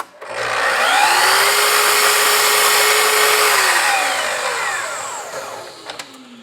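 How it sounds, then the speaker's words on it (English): Sliding miter saw cutting wood for kitchen cabinets, a loud close whine that spins up, holds through the cut, then winds down. "In a scenario like this is a sliding miter saw, but we don't need to slide it. We just simply need to turn it on"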